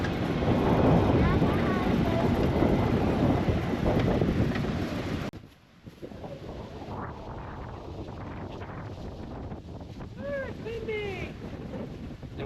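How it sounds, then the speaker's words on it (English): Wind blows hard across a microphone outdoors on a farm, with heavy buffeting rumble that eases partway through, and birds chirp faintly in the background. "Is it windy, buddy?"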